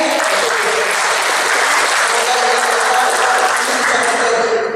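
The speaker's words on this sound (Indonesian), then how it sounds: "Beri aplaus yang sangat meriah." A large audience claps steadily and loudly throughout at a book discussion event, a dense, continuous roar of applause with no pauses.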